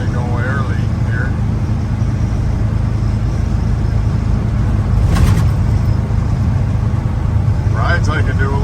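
A 1985 Chevrolet K30 square-body pickup cruising on the road, a steady loud engine and road rumble heard from inside the cab, with someone talking over it.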